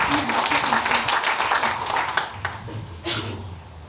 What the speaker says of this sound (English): I should give applause to you